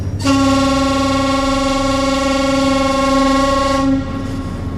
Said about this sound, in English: we end up blowing the whistle again, and the closer they get, the more frantic the whistle gets